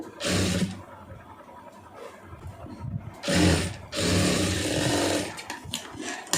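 A sewing machine stitches fabric in short bursts, its whirring motor starting and stopping in three loud runs separated by quieter pauses.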